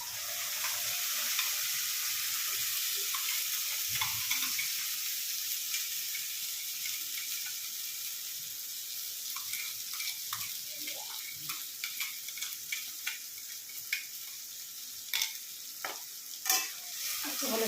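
Tomato and jaggery paste frying in a pan, stirred continuously: a bright, steady sizzle with scattered spoon scrapes and taps growing busier toward the end, heard up close with no talking.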